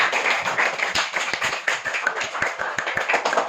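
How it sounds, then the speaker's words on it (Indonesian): A classroom of students claps for themselves at the close of a lesson, a dense run of close, sharp hand claps with steady rhythm and no talk over it. "kita tepuk tangan untuk diri kita sendiri ya"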